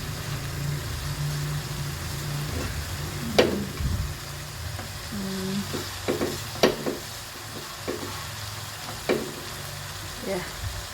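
Beef and cabbage sizzle steadily in a frying pan, with occasional sharp clinks and scrapes of stirring rising over the constant frying hiss.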